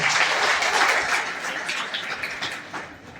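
A crowd claps together in steady, dense applause that fades slightly toward the end, with no talking.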